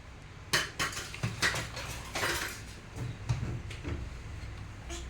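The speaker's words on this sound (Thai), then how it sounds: "ช่วยยาล้างจานหน่อยลูก" Dishes being washed at a home sink, with cutlery and plates clinking in a series of short, close knocks and rattles, irregular in rhythm and without talk.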